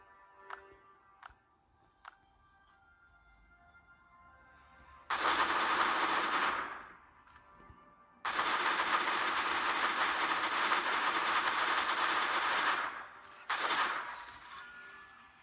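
Loud sustained bursts of automatic gunfire from a fight against a turret in the survival video game Last Day on Earth, three long volleys separated by short quiet gaps.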